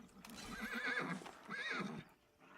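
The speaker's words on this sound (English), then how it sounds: "One of the annoying things is this horse is so incredibly loud" A horse in the video game Pantheon neighs loudly twice, close up, with long wavering whinnies separated by a short pause and a faint clip-clop of hooves.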